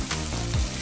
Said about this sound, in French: Wow, est-ce que tu entends ce grésillement?